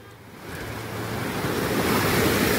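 Sea waves surge and build close by, a rushing wash of surf mixed with wind blowing across the microphone.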